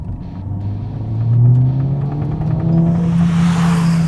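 Mercedes-AMG A 45 S hatchback engine accelerating under throttle, a rising rumbling drone that climbs steadily in pitch and loudness, heard close from inside the car with no talking.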